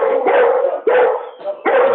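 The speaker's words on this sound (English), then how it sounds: "whoever's dog is going nuts" Dog barking hard in a few loud, close bursts with short gaps between them, no voices.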